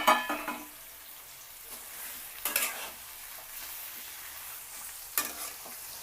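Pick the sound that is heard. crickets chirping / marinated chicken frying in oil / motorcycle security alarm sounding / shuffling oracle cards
marinated chicken frying in oil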